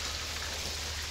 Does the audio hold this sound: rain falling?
yes